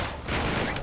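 Gunfire in the video game Uncharted 3: Drake's Deception, a dense, loud burst of overlapping shots filling the whole moment with no talking.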